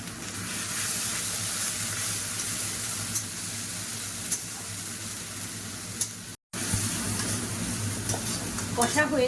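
Onion and ginger paste stir-fry in a pan with a steady, close hissing sizzle and occasional scraping stirs, continuing after a brief cut near the end.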